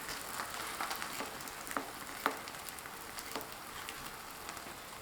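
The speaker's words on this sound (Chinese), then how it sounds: "油热以后放入饼皮" Flatbread dough laid into hot oil in a pan over high heat, giving a soft steady sizzle and crackle with scattered sharp pops, close and fairly quiet, with no talking.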